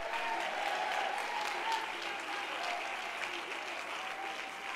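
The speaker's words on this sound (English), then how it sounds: "Come on, clap your hands and shout amen." A church congregation at an apostolic conference claps steadily, a dense, sustained wash of many hands that stays loud and even throughout with no break.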